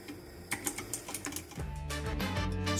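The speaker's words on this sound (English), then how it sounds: "FINEDAY 3 keyboard used full aluminum on all parts, from the keyboard body to keycaps." Key clicks on a full-aluminum FINEDAY 3 Bluetooth mechanical keyboard with aluminum keycaps: a quick run of crisp separate taps, then a denser, steadier clatter under a tonal background, close and moderately quiet.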